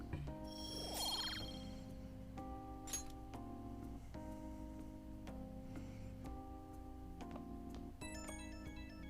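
A phone rings in Persona 5 Royal, a repeating electronic ringtone with bright chiming tones pulsing steadily over soft game background music, alone with no talk.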